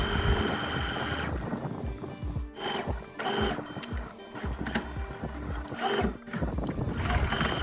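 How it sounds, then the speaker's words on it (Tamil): Sewing machine stitching the hem of a kameez, running in fast bursts of rhythmic mechanical stitching with brief pauses between runs, fairly close and steady. "இப்போ பேக் கமீஸோட ஹெம் தைக்கிறேன்."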